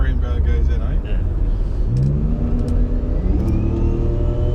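A turbocharged V12 engine swapped into a Toyota Cressida revs hard through a series of rising and falling pulls, loud and close, with people talking over it.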